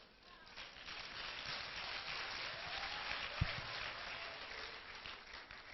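Audience applause, a steady wash of many hands clapping in a hall, moderately loud and sustained throughout, with a voice speaking over it.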